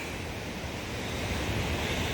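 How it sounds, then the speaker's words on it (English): Rushing water at Wahclella Falls, a waterfall pouring over rock into a blue pool, makes a steady, full, hissing roar that stays even throughout, with no voices. "But yeah, I definitely see the waterfall, so we are almost there. All this water coming off this rock."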